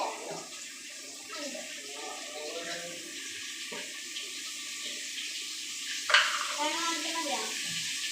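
Mustard seeds splutter and crackle in hot coconut oil, a steady hissing sizzle close at hand, with a louder burst of popping toward the end.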